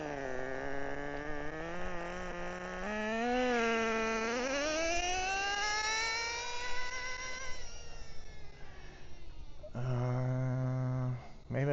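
A nitro RC car engine screams close by, its high buzzing pitch climbing as it revs hard, wavering and bogging before settling back into a steady, lower idle drone.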